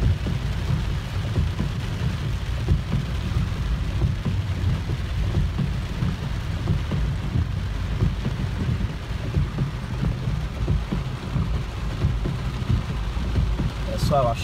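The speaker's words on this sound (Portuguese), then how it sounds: "a chuva continua" A rainstorm in the sertão gives a steady wash of falling rain with low rumbling underneath, continuous and fairly close, with no one speaking.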